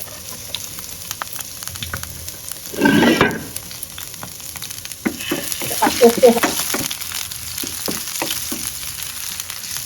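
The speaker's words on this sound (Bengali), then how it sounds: "আমার তেলটা একদম গরম হয়ে গেছে সো এই তো এটা এখন দিয়ে দিচ্ছি" Chopped onion and garlic hit hot oil in a pan with a loud burst of sizzling, then a steady crackling fry continues, stirred with scattered clicks and scrapes; a voice murmurs faintly underneath at times.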